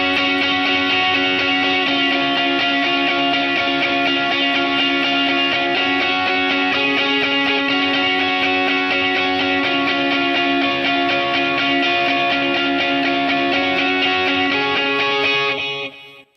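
Electric guitar playing an ambient lead part through dotted-eighth delay and reverb, with sustained, washed-out notes blending into a dense shimmering layer that holds steadily and loud for about sixteen seconds before cutting off.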